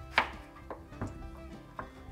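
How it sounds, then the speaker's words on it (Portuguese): A knife cuts a pumpkin into smaller pieces on a board. Four sharp, separate chopping knocks come at uneven intervals over a quiet background. "Eu vou cortar ela nos pedaços assim menores, que aí facilita na hora de cozinhar"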